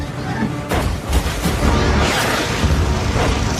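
Alien warship firing back with explosive blasts in the 2012 film Battleship, a dense, loud barrage of booming impacts and crashing debris that starts sharply and rolls on continuously.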